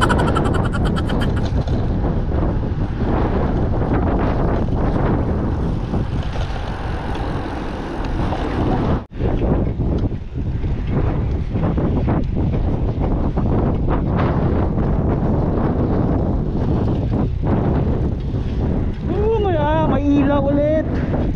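Steady, rushing wind buffets the microphone throughout at Ledyard Park in the UK during a bike outing, a continuous roar with brief dips, with faint voices underneath.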